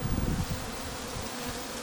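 A dense, steady buzzing of Buckfast honey bees close by, a continuous insect hum with no voices.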